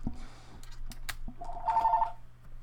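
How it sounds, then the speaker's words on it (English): Inside a phone repair store, a telephone rings with a short electronic trill over a low steady hum and scattered small clicks, moderately loud and close. "And the phone keeps ringing."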